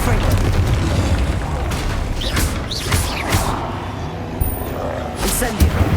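The Confringo spell in Hogwarts Legacy bursts with a loud booming blast and crackling magical effects over a dense rumbling game backdrop, while a voice calls out spell names.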